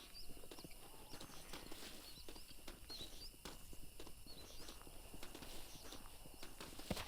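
Horses' hooves clip-clop on the ground in the video game Red Dead Redemption. The quiet, irregular hoofbeats come from close by over a low ambient hum, with faint bird chirps above.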